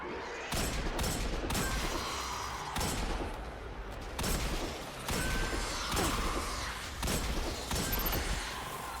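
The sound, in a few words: hand cannon gunfire in video game Destiny 2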